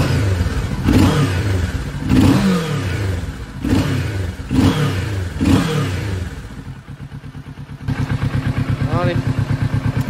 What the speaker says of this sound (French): On va mettre des petits coups de gaz.